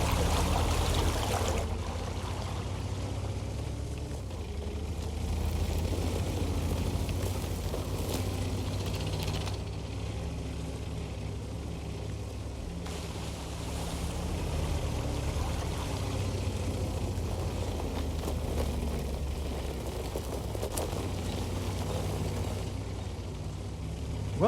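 An SU-100 tank in a video game driving down a steep bank into water, with a continuous low engine rumble under a loud, steady rush and churn of water that swells and eases, with no voices.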